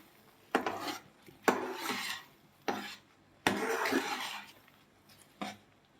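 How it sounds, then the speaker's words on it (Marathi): A spoon scraping and stirring thick Karachi halwa cooked in ghee in a pan over medium heat, heard as several separate rasping, rubbing strokes with short quiet gaps between them, close up and with no talk. "असं घट्ट होईपर्यंत आपल्याला हलवत राहायचं आहे"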